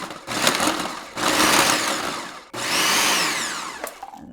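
A food processor pulses cheese and pork rinds in three loud whirring bursts, each a steady motor roar cut off sharply, with brief gaps and a faint clatter between pulses.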